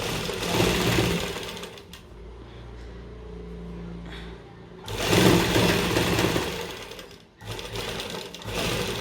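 A sewing machine sews a straight seam on a kurti neckline in two loud, steady runs of a few seconds each, separated by a quieter pause with faint handling sounds.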